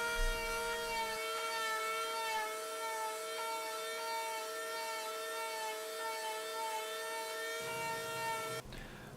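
An oscillating multi-tool shapes the profile of a soft plastic gizzard shad swimbait, making a steady high-pitched tonal buzz with strong harmonics up close that runs continuously and cuts off near the end.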